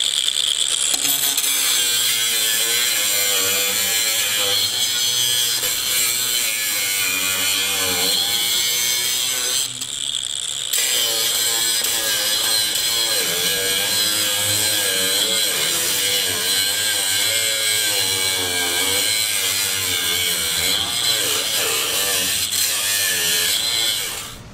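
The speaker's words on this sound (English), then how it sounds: "let's get some grinding." A Milwaukee M18 cordless angle grinder cuts through welds on a trailer fender, its loud, steady high-pitched whine running continuously with only a brief dip partway through.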